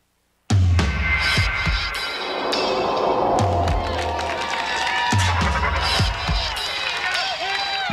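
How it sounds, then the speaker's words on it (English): A crowd cheers at the Lake Placid Ironman USA triathlon finish in 1999, with a loud, continuous roar and whistles carrying on throughout while a commentator talks over it. "the crowds have poured out to greet Thomas Hellriegel as he makes his way to the finish"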